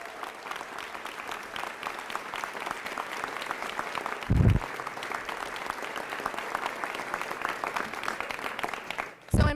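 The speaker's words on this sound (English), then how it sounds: "So give yourself a round of applause." An audience applauds steadily at a governor's private school funding bill signing, a sustained wash of clapping from a crowd in a hall with a brief thump partway through.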